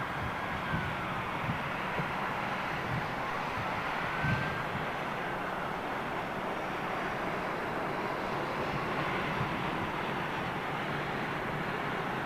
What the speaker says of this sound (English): we have a queue of aircraft, folks